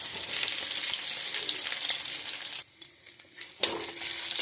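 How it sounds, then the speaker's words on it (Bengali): Chopped onions fry in a pan with cumin seeds in the oil, a steady loud sizzle that drops away briefly for about a second before the crackling returns. "পেঁয়াজ ভাজা ভাজা করতেছি"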